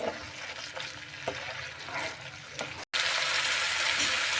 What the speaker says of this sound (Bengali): মশলাটা একটু কষা হয়ে আসছে, এবার আমি দিয়ে দিচ্ছি একটু ফেটানো টক দই।